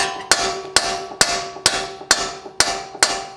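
Hammer blows on a dull chisel during front wheel bearing replacement on a Dodge Journey: seven loud metallic strikes at a steady, even rhythm, each ringing briefly before the next.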